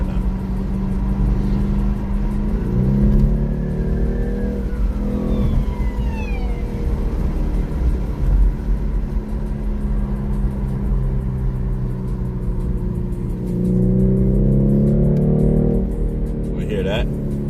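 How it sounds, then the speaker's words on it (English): Car engine in sport mode heard from inside the cabin: a steady droning hum with two rising revs, one early and one late, and a person talking over it. "This is an amazing sounding car."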